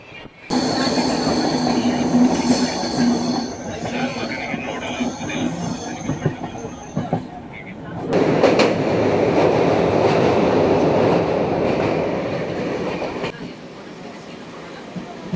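A Hampi Express train rolls along steadily with a loud, dense rumble of wheels and carriages, its sound swelling partway through as the noise shifts, then easing slightly near the end.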